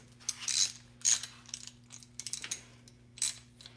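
A ratchet with a 10 mm socket works on a car fuse box, giving short bursts of clicking at irregular intervals, close up and fairly quiet, with no talking.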